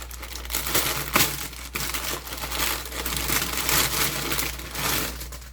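Crinkling plastic packaging from a Temu order, loud and close, crackling continuously in irregular bursts as it is handled, with no talking.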